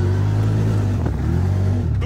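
A car drifts sideways in a video game, its engine giving a loud, steady droning roar that holds at one pitch for about two seconds with little change.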